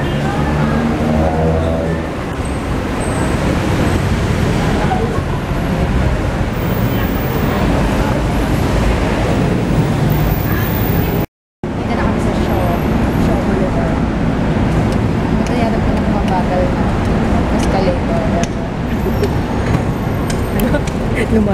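Busy city road traffic in the Philippines near Shaw Boulevard, a constant loud rumble of engines and passing vehicles that runs throughout and briefly cuts out once midway, with people talking over it.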